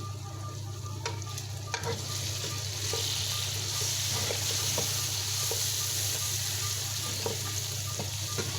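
Chopped green chillies and tomatoes sizzle and fry in oil in a kadhai for a fried chicken curry, a steady close crackle with occasional stirring clinks and scrapes, no talking.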